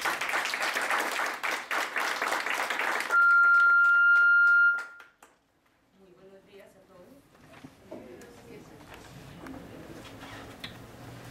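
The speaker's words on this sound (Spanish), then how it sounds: "Recibámoslas con un fuerte aplauso." Applause welcoming a speaker at an academic event on information professionals, dense clapping for about three seconds, then a steady electronic tone and fading claps before a voice begins talking.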